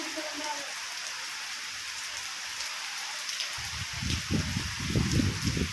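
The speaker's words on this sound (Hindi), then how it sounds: "तो कैस्पर, वाह क्या बारिश आ रही है बाबा, जोरदार।" Steady heavy rain hisses throughout, with a voice speaking Hindi underneath during the last couple of seconds.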